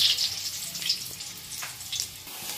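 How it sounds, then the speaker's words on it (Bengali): Potato pieces fry in mustard oil in a kadai, a steady close hiss of sizzling with soft stirring movements throughout. "আলুটা ভেজে নিচ্ছি।"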